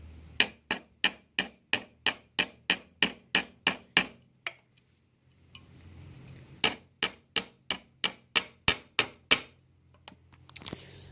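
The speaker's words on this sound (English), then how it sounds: "now that this thing is plugged in, it'll staple now" A Harbor Freight 3-in-1 brad nailer, pin nailer and stapler fires staples in quick, evenly spaced sharp clacks, about a dozen in a row. After a short pause and a low hum, a second run of similar snapping shots follows.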